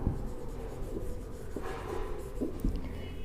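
A pen writing answers in a notebook, a soft continuous close scratching with small strokes and pauses, no talk.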